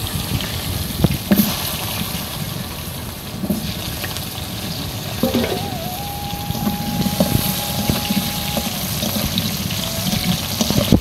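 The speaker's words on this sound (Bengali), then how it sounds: "এবার আমি এই মাছ ভেজে যে তেল ছিল সেই তেলের ভিতরে আলুগুলো দিয়ে দেব।" Cut potatoes frying in oil left over from frying fish make a loud, bubbling sizzle with crackles and occasional scrapes and clatters, steady and close throughout.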